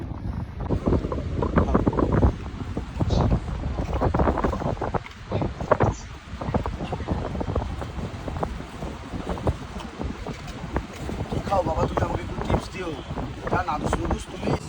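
Wind blowing outdoors on a cool, sunless day, loud gusty rumble buffeting the microphone throughout, with people talking under it.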